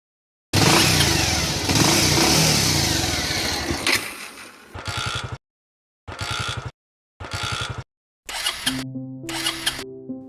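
A troubled motorcycle that has stalled with a full tank, roaring loudly at first, then fading into a series of short, choppy cranking bursts separated by silences, each attempt dying out.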